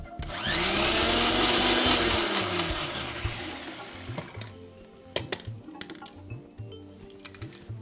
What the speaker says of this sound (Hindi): तो ये चटनी आप चाहें तो इसको थोड़ा सा कोर्स यानी कि दरदरा पीसें